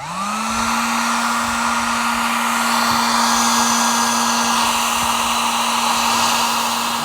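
A heat gun blows steadily while shrinking solder-ring heat shrink connectors on trailer breakaway wiring, a continuous close, even whirring hum with a fan tone that spins up at the start and holds.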